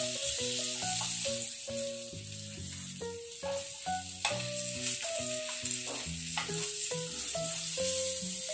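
Tofu frying in rice bran oil crackles in a steady, continuous sizzle beneath louder background music.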